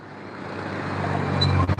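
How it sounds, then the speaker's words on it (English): Town road traffic rumbles in a steady low wash that slowly grows louder as a vehicle nears, ending with a couple of brief bumps, no talk. "It's probably going to get pretty loud because there's a lot of traffic here and a lot of noise everywhere"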